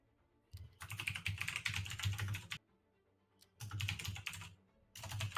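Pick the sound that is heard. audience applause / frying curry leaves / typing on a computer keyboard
typing on a computer keyboard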